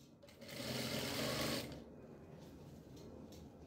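Sewing machine stitching a sofa cover runs in one steady whirring burst of about a second and a half, close but fairly quiet, then stops and leaves low room noise.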